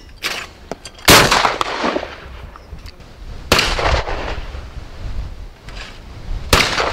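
A Webley & Scott 912 multi-choke sporter shotgun fired at clays on an outdoor shooting ground, four loud separate shots spaced a few seconds apart, each with a sharp crack and a short rolling decay.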